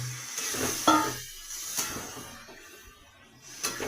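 Banana flower and potatoes fry in a pan with a soft continuous hiss and sizzle, a few clinks and stirring knocks rising briefly over the steady crackle, close and moderately quiet.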